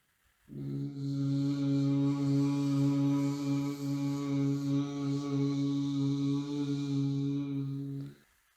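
A voice imitates a buzzing bee with a loud, sustained, droning hum that runs steadily for about eight seconds before stopping, heard alone without speech.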